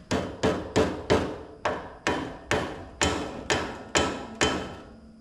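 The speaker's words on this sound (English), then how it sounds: "Whack it a couple more times." Hammer whacking a stuck part on a John Deere 1B corn sheller, about eleven loud, evenly spaced metallic blows, each ringing briefly, close by.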